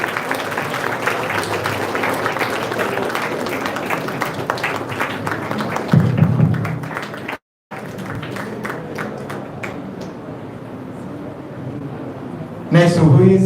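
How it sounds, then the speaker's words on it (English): An audience at a college international seminar's valedictory session claps steadily, with voices heard over the applause, a brief dropout midway, and clapping resuming before a louder burst of sound at the end. "Again, big round of applause."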